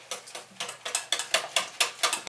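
A whisk or spoon stirs cocoa powder, instant coffee and water in a bowl for a chocolate cake, giving a quick run of about a dozen rhythmic scraping, clinking strokes, close and fairly loud with no talk.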